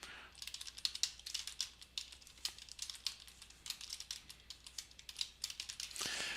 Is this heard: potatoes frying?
no